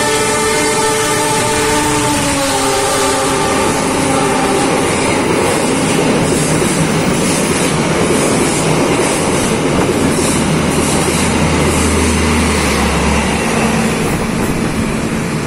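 Taksaka passenger train passing on the Indonesian railway, a loud long horn blast opening the sequence, followed by a heavy, steady roar of wheels and cars rushing past close by.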